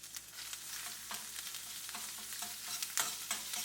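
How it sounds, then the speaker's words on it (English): Chorizo sausage fries in a pan with a steady sizzle broken by frequent sharp pops and spatters, close and moderately loud, no voices. "the chorizo. It's starting to pop a lot."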